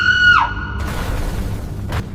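A woman screams in a horror story, a high wavering shriek that slides downward and cuts off, followed by a dark rumbling bed and a brief burst of noise near the end.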